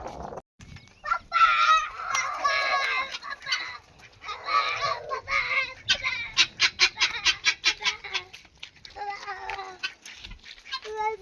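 Hens in a village poultry shed cluck and cackle close by, with rapid rhythmic clucking bursts and a few louder calls over faint background noise.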